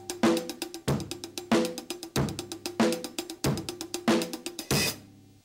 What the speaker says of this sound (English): the first one is a basic hi-hat groove using 5